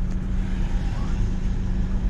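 A car pulling away after refuelling, a steady low engine rumble and road noise throughout, close and fairly loud, with no talk.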